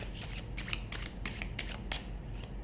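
A deck of tarot cards being shuffled close up, with quick repeated riffling flicks in a busy rhythm and no speech.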